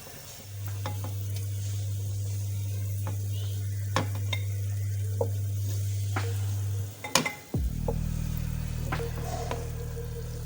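Gulab jamun frying in hot oil, a steady sizzle with occasional light stirring clinks and scrapes, close by, interrupted near the end by a pan knock and a low hum.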